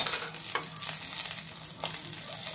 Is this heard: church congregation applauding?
no